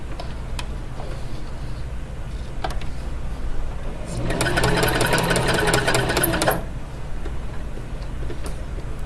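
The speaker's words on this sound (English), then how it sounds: "Needle in, presser foot up," A sewing machine stitches through paper in a steady, rapid mechanical run of a couple of seconds, set between quieter room noise and faint ticks from the machine.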